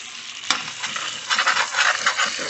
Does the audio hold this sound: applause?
no